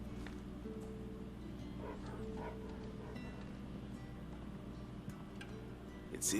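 In the video game Final Fantasy XVI, a dog gives a few faint, soft barks and yips, far off and quiet against a low ambient hum.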